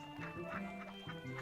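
Cartoon ducks quacking on a farm pond, a steady run of short nasal quacks over a busy background, several birds close together with no pauses.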